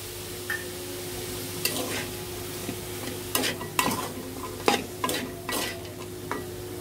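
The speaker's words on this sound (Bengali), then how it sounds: "এখন ভালোভাবে আমরা ভাজা ভাজা করে নেব" Fried rice with green chillies is stir-fried in a pan: a constant sizzle under repeated quick scraping strokes of a spatula, loud and close, in irregular bursts.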